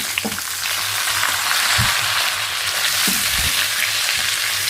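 Small onions, with a large red onion, fry loudly in a pot with meat for kebab, a dense continuous sizzle with occasional low thumps of stirring, close up and without talk.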